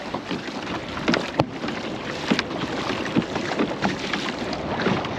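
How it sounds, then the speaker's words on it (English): A kayak is paddled on the ocean under wind, with water splashing and sloshing from irregular paddle strokes against a steady rush of wind noise on the microphone. "Look at this, paddling straight towards the moon."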